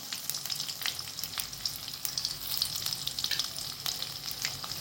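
Crushed garlic and asafoetida frying in hot oil with mustard seeds and cumin for a drumstick kadhi, giving a steady close crackling sizzle with sharp pops throughout, no voices.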